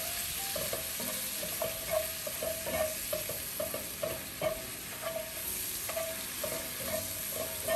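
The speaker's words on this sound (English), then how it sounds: "we're gonna render out our bacon pieces first. And I'm gonna put in my mushroom at the same time" Bacon pieces and mushrooms frying together in a pan, a soft steady sizzle with frequent light taps and scrapes of stirring throughout.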